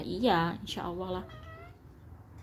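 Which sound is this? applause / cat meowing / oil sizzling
cat meowing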